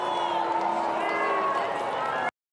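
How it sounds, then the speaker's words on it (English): A large Duke graduation crowd boos during a commencement speaker's speech, a dense sustained wash of droning voices that holds evenly and then cuts off abruptly. "so some people are booing"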